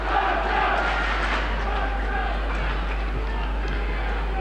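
A rugby league crowd at a Huddersfield Giants versus Catalans match keeps up a broad, steady roar of cheering and shouting, with a low electrical hum underneath throughout.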